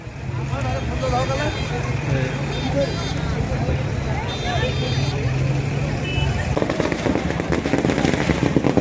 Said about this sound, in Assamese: আৰু এয়া ফটকা